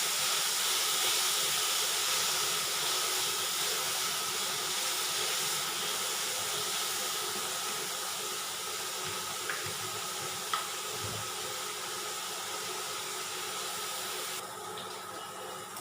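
Chopped tomatoes sautéing in a pan for a spicy puri bhaji curry give a steady, fairly loud hiss that runs unbroken throughout, with a couple of faint utensil taps near the end.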